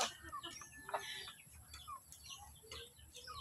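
Backyard chickens kept in a coop in a rural province cluck softly in short, scattered calls, close but faint against light background noise.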